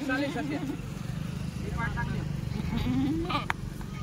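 Kathiawadi sheep bleating in a livestock truck, several wavering bleats from different animals under continuous vehicle or background rumble, with people talking nearby.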